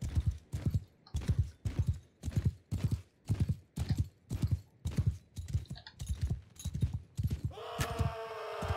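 Horse hooves in Mount and Blade II: Bannerlord pound in a steady galloping rhythm, loud and close, with a brief whinny or other tonal sound near the end.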